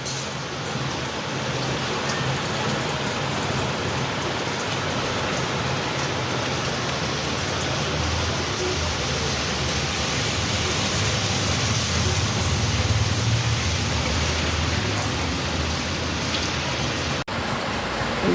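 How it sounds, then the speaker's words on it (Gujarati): Heavy rain pours steadily in a daily-life setting, a dense, continuous hiss and patter on surfaces, loud and close, with no voices throughout until a brief break near the end. "આજે બહુ વરસાદ આવ્યો ભાઈ।"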